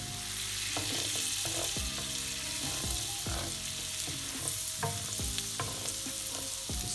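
Garlic sizzles steadily in a hot pan with salmon frying alongside, broad crackling hiss throughout with repeated scraping stir strokes and light clinks, close and fairly loud, no voices.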